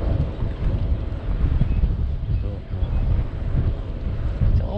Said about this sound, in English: See, this is one of them blustery, breezy days.